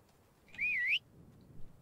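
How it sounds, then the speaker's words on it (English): A single short whistle calls a horse in the video game Horse Tales: Emerald Valley Ranch, a clear wavering tone that rises and falls for about half a second over a faint background. "I'm just going to whistle."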